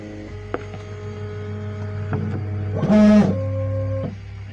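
A 3D printer auto-homing its axes: stepper motors whir in short tonal bursts, with a brief louder buzzing sweep in the middle, close up over a steady hum.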